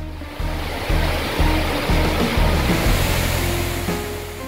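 A waterfall near Jagdalpur, its broad rushing roar of falling water loud, close and continuous, swelling slightly over a few seconds.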